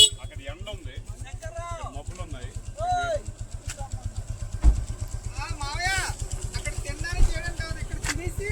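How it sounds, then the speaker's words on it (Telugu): A vehicle engine idling nearby with a rapid, even low putter throughout, while people talk and sing over it, the motor steady and moderately loud under the voices. "సాకేటి వారి వాహనం వచ్చేసింది."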